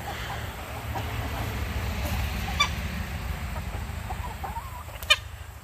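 Backyard chickens mill about in a coop, with soft clucks and low murmuring over a steady background hum, plus a couple of sharper squawks near the middle and the end.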